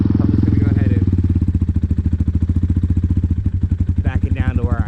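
A Kayo T4 dirt bike engine idles close by, a loud, fast, steady putter with an even rhythm throughout, while a person talks briefly near the start and again toward the end.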